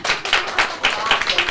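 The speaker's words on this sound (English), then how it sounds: "Now, you can give me a clap." Audience at an Inspire'd talk event claps in response to a speaker's request, a brisk burst of overlapping hand claps, fairly loud and close throughout the short stretch.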